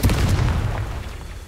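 A Confringo fire spell blast in the video game Hogwarts Legacy: a single deep booming explosion with heavy low rumble that decays over about a second.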